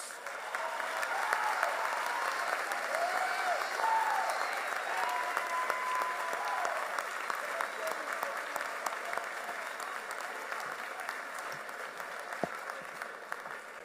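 A large crowd applauds the young men of Urban Prep's three campuses at a school announcement event, with sustained, full clapping and some cheering carrying on evenly for over ten seconds before easing slightly.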